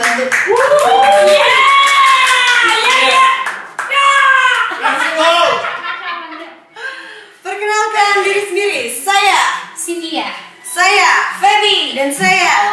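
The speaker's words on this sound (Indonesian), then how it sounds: "Tepuk tangan buat tamu." Studio audience and hosts on an Indonesian variety show clap for arriving guests: quick bursts of handclaps mixed with loud, excited voices talking and shouting over them, close and lively.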